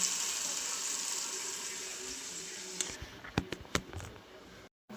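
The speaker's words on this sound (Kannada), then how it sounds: "ಇದಕ್ಕೊಂದು ಸ್ವಲ್ಪ ನೀರು ಹಾಕೊಳ್ಳಂಬರಿ" Water pours steadily for about three seconds into a pot of nearly ready huli (sour curry), a close rushing stream, then gives way to a few clinks and knocks of kitchenware.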